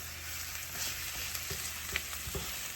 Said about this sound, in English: mix it up, fry up my ground beef